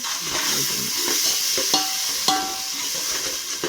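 Ground masala paste fries in oil in a pan while a spoon stirs it, making a continuous sizzle broken by a few sharp scrapes and clinks of utensil against metal, with no speech.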